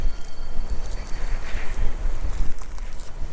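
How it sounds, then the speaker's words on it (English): Hot, dry desert wind blusters across the microphone outdoors near an old mill site, producing loud, uneven low rumbling gusts that rise and fall throughout. "It's like a hot, dry wind, a hot desert wind."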